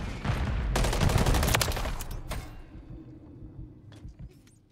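Renetti burst pistol fire in a video game, a rapid cluster of close, loud shots lasting a couple of seconds, then quieter background noise with a few faint clicks.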